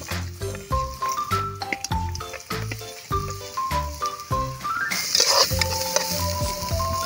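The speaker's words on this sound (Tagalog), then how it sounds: "Kapag mainit na ang mantika, igisa na natin ang bawang. Sunod ang luya." Garlic, then ginger, sauté in hot oil, making a hissing sizzle that grows stronger partway through and sits under prominent music with a steady beat.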